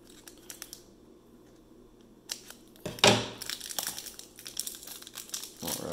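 A blade slits open the plastic wrapper on a 2019-20 Upper Deck Ultimate Collection hockey card box, giving a sharp crinkling tear near the middle followed by rustling plastic handling, close and fairly loud in a quiet room.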